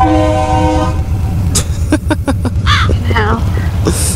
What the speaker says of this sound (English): That was a train horn on his little dick truck.